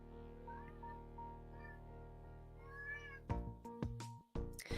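Several house cats meow loudly and repeatedly indoors, their drawn-out calls close up, followed by a few sharp knocks and bumps near the end.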